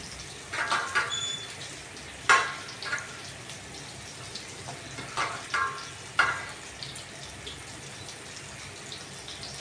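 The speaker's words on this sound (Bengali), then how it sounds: "তো আমি বেগুনটাকে এপিট ওপিট করে নিয়ে ভেজে নিয়ে নেব" Eggplant pieces frying in a wok, a gentle continuous hiss punctuated by several sharp crackling bursts and light clatters.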